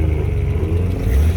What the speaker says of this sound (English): A Porsche just rolled in.